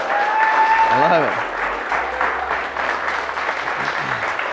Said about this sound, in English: Can you give yourselves a round of applause, please?